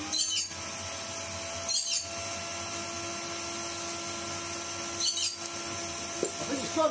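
A Makita 18V DVC560 cordless vacuum cleaner runs with a steady, close motor whine while sucking dirt from a crevice, with a few brief rushing bursts as the nozzle shifts.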